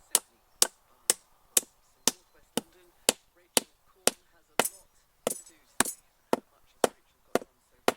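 Hammer blows stitch-nail a brace into the timber base plates that support a polytunnel's legs, about sixteen sharp, evenly spaced strikes ringing out close and loud with no talk.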